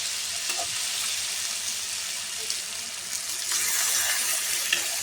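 Water poured into a pan of frying ridge gourd and potato curry hisses and sizzles steadily up close, with a louder surge of sizzling near the end.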